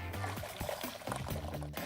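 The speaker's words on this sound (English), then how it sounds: "Take a funnel and a tube and just add water, gravity, and ping pong balls." Water is poured into a funnel feeding a tube loaded with ping pong balls, a continuous gurgling, splashing pour at moderate volume that runs throughout with a few bubbly surges.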